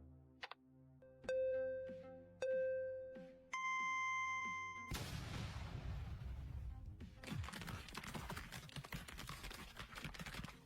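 Remote-triggered explosion sound effect in a Korean audio drama, opening with bright electronic beeps before a sudden loud broadband blast and a long crackling roar of falling debris that fills the rest of the clip.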